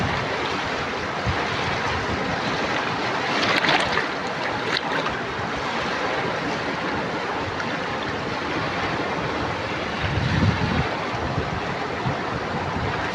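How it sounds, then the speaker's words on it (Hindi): Dangerous floodwater rushing and surging in a steady, loud, broadband roar that stays close and continuous throughout, with brief louder bursts of churning water and no talk. "देख रहे हो ना कितना पानी आ रहा है, देख रहे हो छलांगे मार रहा है पानी"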